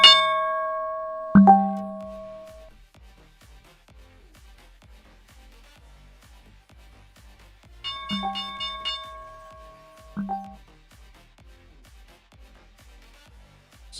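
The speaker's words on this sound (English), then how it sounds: "That dang bell is so loud," A loud alert bell rings from desktop computer audio with a sharp strike near the start, then two more bright chimes later, each decaying with a ringing tail, over quiet low ticking in between.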